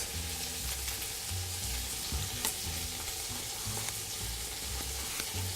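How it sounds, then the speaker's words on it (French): A pork roast searing in a hot pan gives a steady, even sizzle and crackle close by, fairly quiet, with a few faint knocks and scrapes mixed in. "Vous voyez, la viande est en train de bien colorer, on voit bien son marquage."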